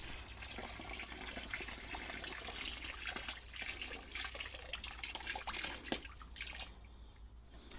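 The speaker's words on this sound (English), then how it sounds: "Take out the reservoir and empty out the coolant in it." Coolant from a Pontiac Fiero reservoir is poured out, a faint, steady trickle and splash of liquid with occasional drips that cuts off near the end.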